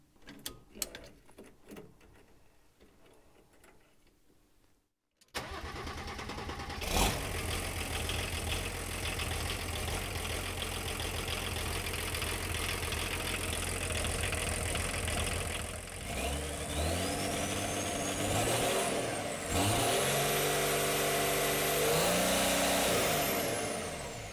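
A warm diesel engine in a VW LT40 tow truck runs steadily at idle with a rough mechanical rumble, starting after a quieter stretch, then shifts in pitch as it revs slightly near the end.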